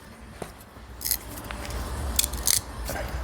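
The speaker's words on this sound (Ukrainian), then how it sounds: "А ну послухайте, як хрустить." Soft crisp crackling and creaking bursts, a few close clicks and crunches as a piece of tin is bent, fairly quiet with low background hum.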